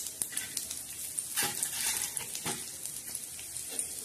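Garlic dropped into hot oil with spices, a faint continuous sizzle and crackle with scattered small pops and light stirring scrapes throughout.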